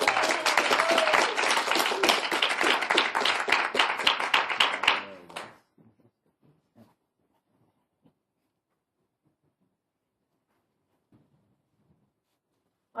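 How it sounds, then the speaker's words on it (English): An audience at a Youth Week Calgary story slam competition bursts into dense, lively applause for about five seconds, then it abruptly fades into near silence with only a few faint scattered knocks and shuffles. "Let's give a big warm round of applause for Jillian Yanee"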